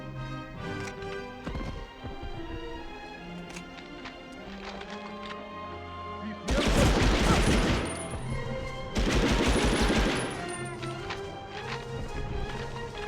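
A machine gun in Medal of Honor: Underground on PS1 fires in sustained loud bursts, two heavy stretches standing out against the surrounding game sounds, with some talk.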